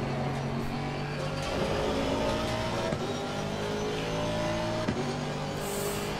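A race car in Assetto Corsa Competizione at Brands Hatch accelerates, its engine whining up through the revs in a steady climb, with brief dips at gear changes, loud and close throughout.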